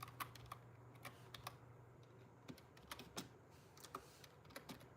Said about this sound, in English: Trying to type with my left hand is never easy.